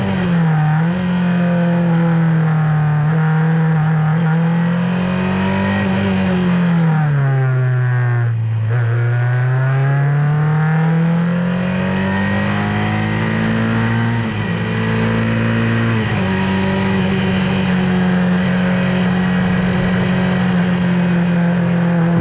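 A Tiga SC81 S2000 race car engine droning loud and close at high revs through a lap at Silverstone, the pitch dipping under braking and climbing again through gear changes.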